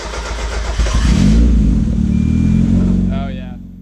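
A repaired Mazda Miata engine starts up close by, the starter cranking before it catches and settles into a rough, steady idle, with a voice speaking briefly near the end.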